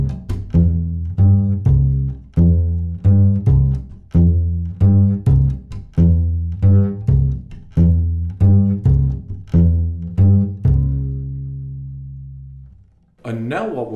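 Rockabilly slap bass plays a slow rumba rhythm of deep, close plucked notes with sharp percussive slap clicks, steady and repeating for about eleven seconds before a long ringing note fades and a final burst starts.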